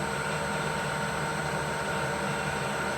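A Bridgeport milling machine head runs steadily at 1000 RPM in high gear, giving a constant, moderately quiet mechanical hum with broadband whir and no speech.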